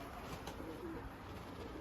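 Domestic pigeons cooing, Iraqi breeds kept in a loft in Germany, with a steady low murmuring coo repeating throughout against a constant background hum.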